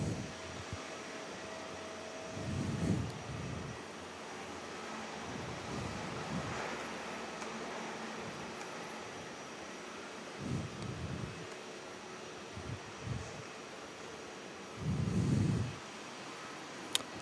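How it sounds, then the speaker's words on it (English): A Boeing 737 jet taxis slowly out for departure at Perth airport, a steady distant broadband engine roar lying under gusty, thumping wind buffeting the microphone. "On the corner 737, just slowly moving out for their departure."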